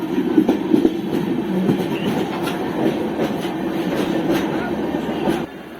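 The Saraighat Express passenger train pulling into New Alipurduar Junction, a steady rumbling roll of carriages with rhythmic wheel clatter and light squeals, fading toward the end.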